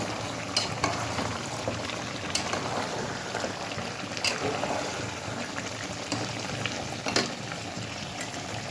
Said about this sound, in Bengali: সামান্য কিছু মশলা দিয়ে আপনার কষিয়ে নিচ্ছি